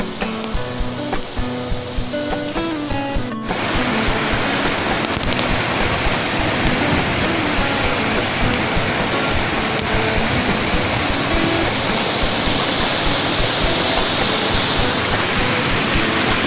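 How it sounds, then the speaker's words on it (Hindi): Suga Bandh Waterfall in Latehar, Jharkhand, roars as a loud, steady, dense rush of falling water that fills the scene without pause after a brief, quieter opening. "और आगे साइड है वाटरफॉल।"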